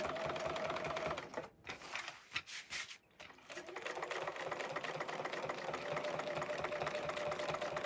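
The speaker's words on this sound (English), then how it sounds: "The ruler foot really does make it easy. And of course this is all free motion." A sewing machine stitching in free motion with a ruler foot while quilting acrylic canvas, a rapid steady mechanical whirring that stops briefly twice around the middle before resuming, close and alone.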